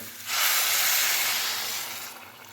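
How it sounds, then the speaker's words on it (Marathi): A sudden loud hiss and rush of steam as hot water hits a hot pan while cooking chicken khichdi, holding for a couple of seconds before fading out. "आता मी ह्याच्यामध्ये पाणी टाकते"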